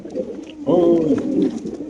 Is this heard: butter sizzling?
no